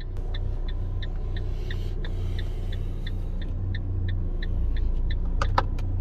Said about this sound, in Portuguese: E vamos botar esse carro pra andar.